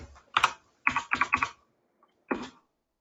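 Typing on a computer keyboard: a few short bursts of close, crisp key clicks, a quick cluster in the middle, then a single final keystroke after a pause.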